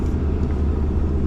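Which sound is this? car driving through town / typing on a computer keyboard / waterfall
car driving through town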